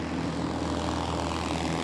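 Inside the cockpit of a homebuilt light propeller airplane climbing at about 70 knots, the engine and propeller give a steady, loud, broadband drone with no breaks.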